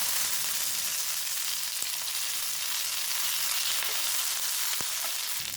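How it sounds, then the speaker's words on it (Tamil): Mustard seeds and curry leaves frying in hot oil for a tempering of kadala paruppu chutney, a steady close hiss of sizzling with a few faint pops. "இப்போ எண்ணெய் காஞ்சிருச்சு, கடுகு சேர்த்துக்கிறேன்."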